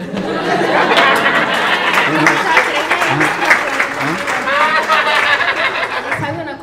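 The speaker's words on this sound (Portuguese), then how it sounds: "Es aplauso, Jorgito." An audience claps in a continuous, busy burst of applause, mixed with chatter, chuckles and a voice talking over it.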